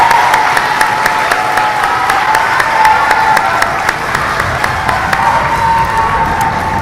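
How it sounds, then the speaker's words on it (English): Audience applause at a 6th grade school awards ceremony, a dense, steady clapping from a large crowd that holds at an even loudness throughout without pause. "can we have a round of applause for your teachers and your parents?"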